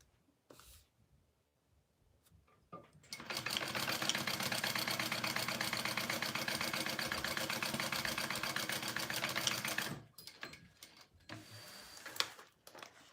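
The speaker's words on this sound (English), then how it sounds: "All right, here we go. We're gonna sew this first." A sewing machine stitches a slip pocket in one steady, rapid mechanical run lasting about seven seconds, with quiet handling noises before and after.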